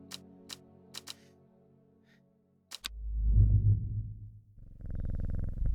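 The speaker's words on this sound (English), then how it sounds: "it reduces our ability to hear hellebore purr" A hellebore plant in the Strange Horticulture video game gives a low, rumbling purr that swells in after several sharp clicks, fades briefly, then returns steady and close, alone without talk.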